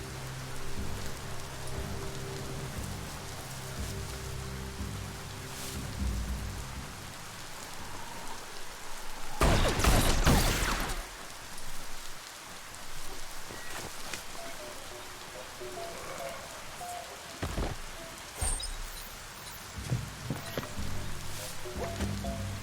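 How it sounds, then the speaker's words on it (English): Steady rain falling in the video game Biomutant, a continuous wash of droplets pattering on surfaces with a brief louder surge partway through and occasional sharper drips, no voices. "no escaping the rain if you've got to be out."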